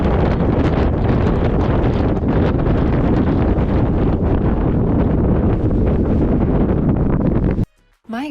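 Strong, steady wind roars across the microphone on a hiking trail, loud and continuous with no gusting pauses until a brief drop near the end, with no talking.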